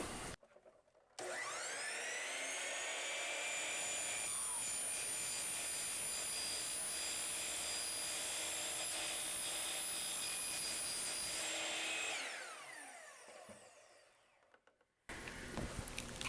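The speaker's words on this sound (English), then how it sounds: "Just lower the saw nice and slow." A power saw with a 12-inch blade is lowered slowly through vinyl siding, giving a loud, steady whining roar that holds for about ten seconds and then winds down as the blade spins to a stop.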